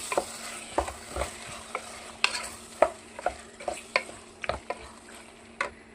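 A spoon stirs a salted vegetable pulao mixture in a pan, with irregular clicks and scrapes against the metal roughly every half second over a faint sizzle and no voices.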